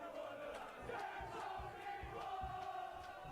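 A darts crowd at a £45,000 money match in Antrim roars and chants continuously, a dense wall of voices with rhythmic thumping swells, loud and close throughout.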